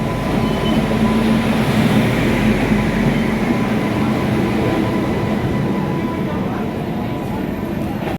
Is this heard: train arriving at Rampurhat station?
yes